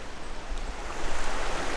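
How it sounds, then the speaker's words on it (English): River rapids near Aberfeldy, a continuous broad rush of running water, steady and fairly close, with no voices. "I love the sound of running water."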